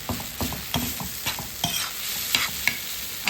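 Spoon stirring spicy eggplant and onion bharit in a hot pan, with repeated close scraping strokes over a steady soft sizzle.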